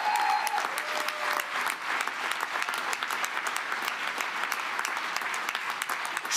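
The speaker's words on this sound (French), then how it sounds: "Applaudissez-vous" Steady, dense applause from a crowd at a Quebec election-night rally in 2022, continuous clapping filling the room at an even level throughout.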